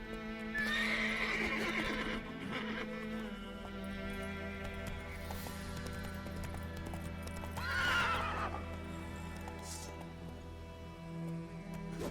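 Roach, a horse in The Witcher 3: Wild Hunt, with a hoof-beat rhythm running under two loud whinnies near the start and again partway through, accompanied by steady background game ambience.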